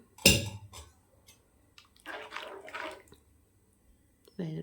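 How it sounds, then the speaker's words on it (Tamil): Water is poured in a short splashing stream into a pot of idli kurma curry, after a brief clatter, with quiet pauses around it. "இன்னும் கொஞ்சம் தண்ணி சேர்த்துக்கலாம்"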